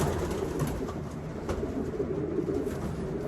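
A racing pigeon coos with a soft, continuous throaty rumble, steady and close, with no clear pauses or talking over it.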